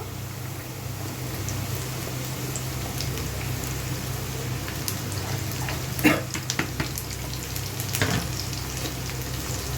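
Bitter gourd fries with onions in a pan, a steady close sizzle running throughout, with a few louder scraping stirs near the middle.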